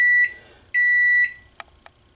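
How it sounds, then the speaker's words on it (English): An alarm gives two loud, sustained electronic beeps of about half a second each, close and clear, followed by two faint short clicks in a quiet room. "My alarm has gone off there, of course."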